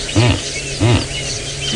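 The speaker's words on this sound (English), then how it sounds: "I think the weavers are too loud." Weaver birds calling loudly at sunset on a safari drive: two bursts of repeated chattering calls stand out over a dense, steady bed of bird and insect sound, close and busy.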